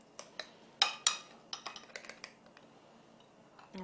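Spices tipped into a bowl for flank steak, a short run of light clinks and taps of spoon and bowl, close and fairly quiet, with a bright rattle near the end.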